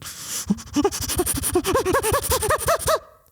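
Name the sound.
voice imitating chimpanzee-like heavy breathing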